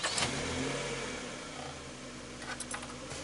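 A 1989 Toyota Tercel engine idles, its speed lifting slightly under power steering load; a steady close-up hum with a low mechanical drone and no talk.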